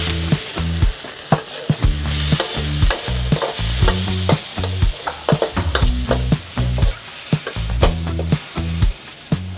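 Beef and eggplant stir-fried in a pan with Chinese cooking wine or dry sherry: a steady, loud sizzle runs throughout, with repeated sharp scraping clacks of a utensil tossing the food in an uneven rhythm, no talking.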